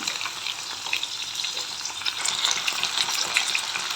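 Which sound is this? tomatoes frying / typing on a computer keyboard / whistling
tomatoes frying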